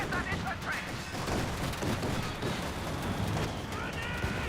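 Flamethrower fire and a grenade in Company of Heroes 2, a steady roar of battle with scattered blasts and gunfire throughout, a voice talking over it.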